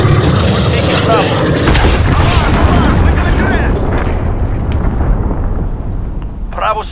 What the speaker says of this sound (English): Enemy cruise missile. We're taking trouble.